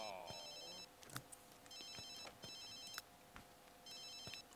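A telephone ringing in The Sims 3, repeated electronic ring bursts in a regular pattern over soft game ambience with occasional clicks.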